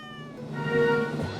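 A cat meows in a drawn-out, wavering call that swells and then fades, close and clear with no talk over it.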